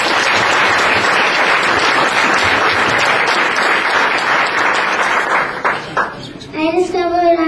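A school audience at a Leader in Me leadership conference in Sun Valley, Idaho, gives a loud, sustained round of applause that fades out near the end, and a young voice then begins speaking.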